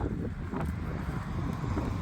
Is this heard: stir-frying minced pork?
no